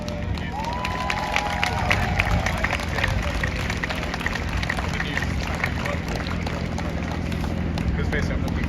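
A crowd cheers and applauds at an outdoor animal rights protest in London. Steady, broad crowd noise continues throughout, with voices and scattered claps at moderate distance.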